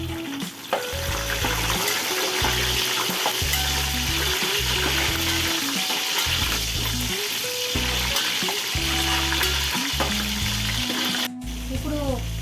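Green chillies sizzle loudly in a pan during biryani cooking, a dense steady frying hiss with stirring clatter, close and continuous, with a faint tonal background hum beneath.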